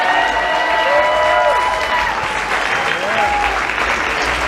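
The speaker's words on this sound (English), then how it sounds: "So let's give the Refuge a big round of applause for hosting us." Audience applause at a cannabis panel event for the venue hosting it, a full, sustained crowd clapping with some cheering and voices mixed in, loud and even throughout.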